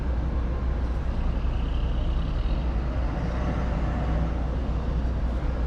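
Sinar Jaya 72RE intercity bus pulling away from the Pulau Gebang terminal, a steady low engine rumble and road noise heard from inside the bus.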